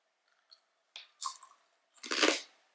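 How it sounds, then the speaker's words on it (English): Brown bread crisps crunched between the teeth during a taste test, giving a few short, dry crunching bursts close to the mic, the last one the loudest and longest, with quiet pauses between bites. "You can hear the crunch."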